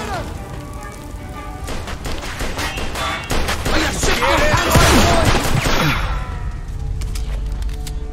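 Gunshots in Mafia 2, a dense volley of loud close shots and crashing impacts building through the middle, with voices talking around the firing.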